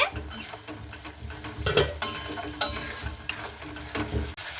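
Spiced masala being stirred and fried in a pan for a cauliflower and egg curry, with a steady sizzle under repeated scraping and clinking of a spoon against the pan, close and fairly loud.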